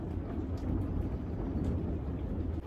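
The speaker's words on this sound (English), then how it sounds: "it is raining so hard" Heavy rain pours down steadily, a dense low rumbling wash of water with no breaks, fairly soft and distant-sounding, with no voices.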